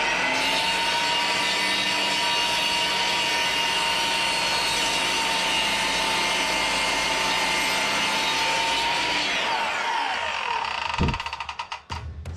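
A saw blade grinds steadily through a block of very hard wood, a dense continuous whine that holds level for about ten seconds, then tapers off with a few scraping, clattering sounds as the cut ends.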